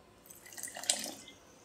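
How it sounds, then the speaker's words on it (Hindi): A small splash of water is poured into a pot of pav bhaji, a brief faint trickle and drip lasting about a second in a quiet kitchen. "अब इसमें थोड़ा सा पानी और ऐड करेंगे,"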